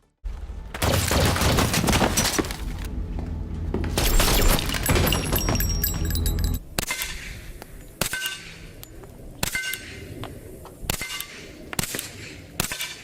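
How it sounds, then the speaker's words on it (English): Suppressed HK Mark 23 pistol gunshots, first a dense burst of cracks from a film scene, then separate sharp shots with pauses between them from real firing of a similar setup. "Here's the suppressed Mark 23 as heard in Sicario, followed again by real-world footage from TFB-TV firing a similar setup."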